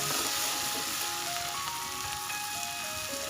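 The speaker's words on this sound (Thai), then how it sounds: "แล้วก็จะผัดให้เขาหอมออก" Pounded chili and unpeeled garlic stir-frying in a pan, a steady close hiss of sizzling oil with faint crackles running throughout, no talking.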